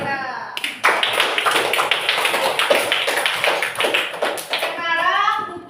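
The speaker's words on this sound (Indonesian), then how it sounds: "Beri tepuk tangan untuk Zakira." Schoolchildren in a classroom clap their hands for a classmate, a dense, loud burst of rapid claps lasting several seconds, framed by children's voices at the start and end.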